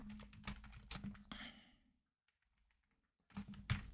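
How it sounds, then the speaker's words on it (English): Code is typed on a computer keyboard: quiet close clicks of keys in quick bursts, a pause of over a second, then more rapid tapping. "I'm just typing the code right now."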